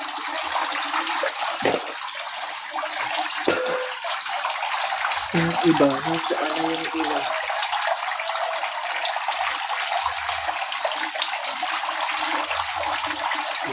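Water rushes and gushes steadily as it is drained and changed in a crayfish pond, forming a loud, continuous wash throughout, with a voice speaking briefly over it.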